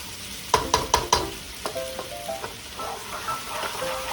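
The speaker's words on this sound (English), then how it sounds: "We have to stir the lima beans to avoid of burning." Lima beans frying in a pan as they are stirred, a quick run of sharp clinks from the utensil against the pan over a soft sizzle, followed by lighter scraping.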